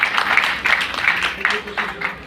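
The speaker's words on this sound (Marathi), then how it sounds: "या छोट्या रमाईसाठी एकदा जोरदार टाळ्या वाजवा" An audience claps in a brief, steady burst of applause with rhythmic, close hand claps, no voices over it.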